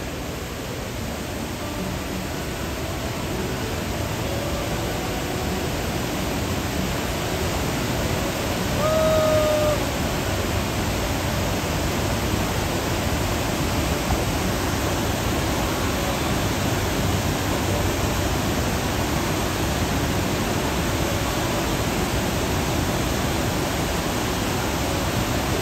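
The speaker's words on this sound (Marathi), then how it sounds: "पाणी होतं आहे वॉटरफॉलचं" Waterfall water rushes across a trail crossing on the Annapurna trek, a dense, even roar of broadband noise that stays loud and unbroken throughout, no voices.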